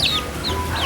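A chicken gives a few short clucks in quick succession during an outdoor Hawaii outing, close by against steady low background noise.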